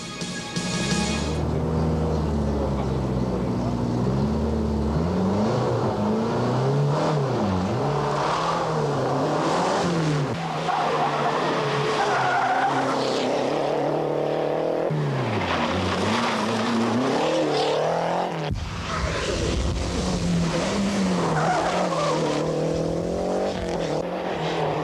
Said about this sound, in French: Nouveau look pour la Renault 5 et nouveau départ pour l'équipage Oreille Timonier.